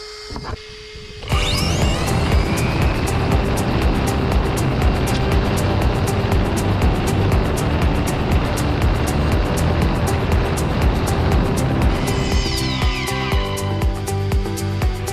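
A Carten T410 touring-class RC car with a 17.5-turn brushed-style motor speeds around a track, a loud continuous whine and rattling drive noise that starts abruptly after a quiet second and holds steady throughout.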